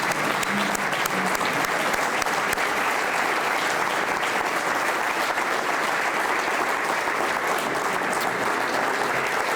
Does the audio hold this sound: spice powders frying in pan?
no